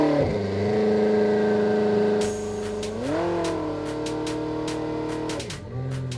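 Koenigsegg sports car, a Swedish luxury hypercar, revving and accelerating hard nearby, its engine note rising and falling through gear changes with a steady loud roar and brief higher-pitched surges.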